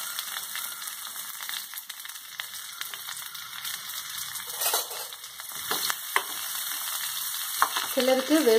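Mustard seeds frying in a little oil in a pan for beans poriyal, giving a steady hissing sizzle with scattered crackles and pops that grow busier toward the end, where a brief voice is heard.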